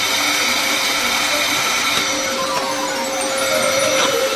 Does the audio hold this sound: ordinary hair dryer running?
yes